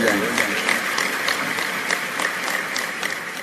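Audience applause fills a convention centre hall, a steady dense wash of clapping heard up close throughout, with a voice speaking over it.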